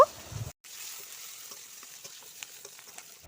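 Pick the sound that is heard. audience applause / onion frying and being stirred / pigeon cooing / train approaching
onion frying and being stirred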